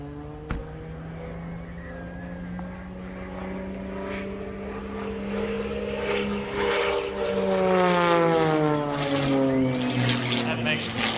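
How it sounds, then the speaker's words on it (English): An aerobatic propeller airplane drones overhead at the 2020 New York International Air Show, its engine tone steady and then sliding down in pitch as it makes a knife-edge pass, with an announcer talking over the sound. "Knife edge pass, Mr. Scott Francis."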